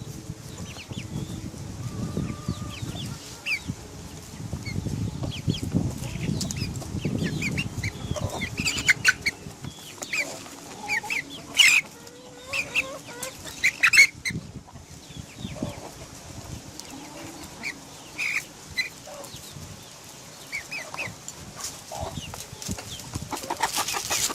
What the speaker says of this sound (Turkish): Tavuklar yemeye devam ediyor.